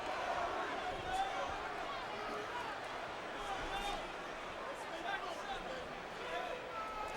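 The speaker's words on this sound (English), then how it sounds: "Crowd exhorting their hometown favorite, Cory Spinks." Boxing arena crowd roaring and cheering steadily for hometown favorite Cory Spinks during the Zab Judah vs Cory Spinks rematch, a dense continuous wash of voices that holds at an even level throughout.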